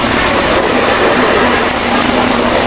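Katwa to Barddhaman passenger train running, a steady loud roar of wheels and carriage noise throughout with a faint rhythmic clatter, no voices.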